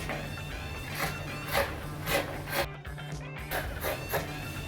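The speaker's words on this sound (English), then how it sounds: "so I'm going to have to cut that off" The uneven hem of a cotton t-shirt is cut off, producing a series of close, rhythmic rasping cuts about every half second against a faint background hum, with no voices.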